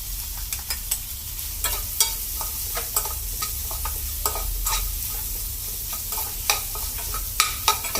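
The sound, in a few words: sautéing crushed garlic, cumin and green chili for rasam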